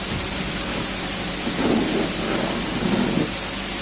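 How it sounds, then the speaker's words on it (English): Thunder and steady rain in the RESIDENT horror video game, a continuous broadband wash of rainfall with low rumbling swells of thunder rising in the middle, fairly loud and with no talking. "thunder and lightning"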